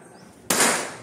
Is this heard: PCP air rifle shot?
yes